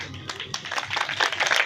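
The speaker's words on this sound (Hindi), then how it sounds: "तालियां बजाएंगे," A church congregation in Pakistan clapping together, a dense, continuous patter of many hands that swells louder toward the end, with a voice briefly audible over it.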